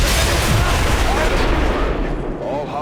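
In the video game XCOM 2, a melee strike lands amid a loud, sustained explosion that roars and rumbles without a break, dense and booming throughout before easing slightly at the end.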